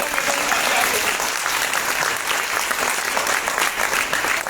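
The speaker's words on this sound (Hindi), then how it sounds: "तालियां तो बजा दीजिए" At a Modicare seminar hall, the audience claps in a dense, sustained roll of many hands, loud and even from start to finish.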